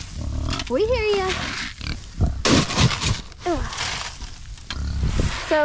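Pigs oink and squeal close by at feeding time, in repeated grunting bursts, over near-constant talk from people.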